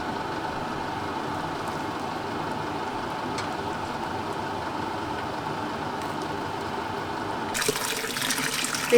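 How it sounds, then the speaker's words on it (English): Ramen noodles are drained with a steady, continuous pour of water that splashes nearby and grows a bit louder near the end. "They say to drain the noodles really well."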